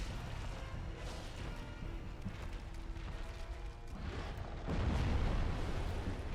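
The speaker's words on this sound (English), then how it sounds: "that explosion reaches behind him quite heavily" A boss's explosion attack in Dark Souls Remastered: a low rumbling burst with crackling debris, a steady roar that swells into a heavier blast near the end, moderately loud and with no voices.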